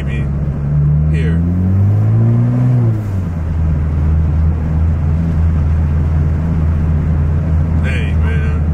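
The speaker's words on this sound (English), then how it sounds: "my car is burbling its life away" A Honda Civic engine drones and burbles steadily from inside the cabin while driving on a canyon road, a loud low hum with a brief pitch swell near the start.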